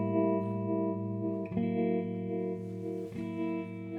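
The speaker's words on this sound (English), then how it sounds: "they created a harmonic tremolo" An electric guitar plays sustained chords through a harmonic tremolo effect pedal made in Athens, with the pulsing effect shaping the held notes and new chords struck at steady intervals.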